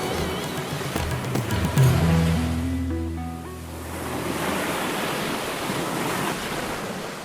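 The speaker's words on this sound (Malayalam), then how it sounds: "കടൽ തിരമാലകളുടെ ധ്യാനമന്ത്രത്തെ ഒന്ന് ശ്രദ്ധിച്ചാൽ" Sea waves break on the shore at Kanyakumari, a broad roaring surf that swells, eases and builds again, mixed with wind buffeting the microphone and a soft tonal sound partway through.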